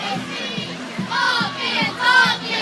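A crowd at a 2017 high school football game between Good Hope and Cold Springs roars and shouts in rolling waves, with rhythmic chant-like bursts over a constant murmur.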